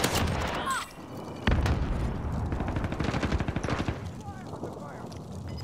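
Rapid video game gunfire in a battle royale firefight with a closing gas zone, dense loud bursts and a quick rattling volley in the middle, with game sounds and voices mixed throughout.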